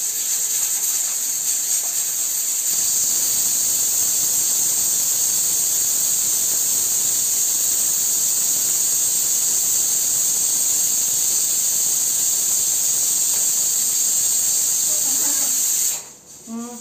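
A long, loud, continuous steam hiss from a pressure cooker whistle, holding steady for many seconds before cutting off near the end.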